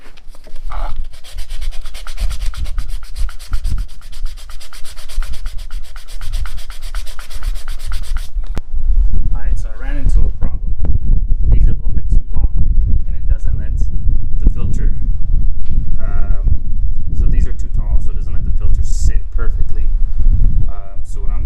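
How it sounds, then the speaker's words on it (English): Steady abrasive rubbing from hand-sanding small breather kit parts for a stock 2020 Harley-Davidson Iron 1200 Sportster, loud and close, with continuous scratchy strokes running throughout and a brief pause partway through. "So I'm gonna sand these and get those ready"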